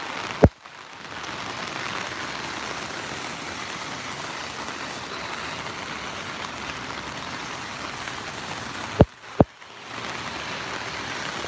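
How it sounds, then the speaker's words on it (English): Heavy rain falls steadily in New York City as a constant broad hiss, cut by a sharp click near the start and two more close together near the end. "the rain's getting even heavier now."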